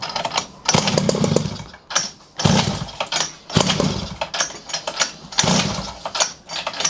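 A small pocket bike engine fires and revs in loud bursts, sputtering and dying between pulls as it struggles to start with fuel not reaching the carburetor.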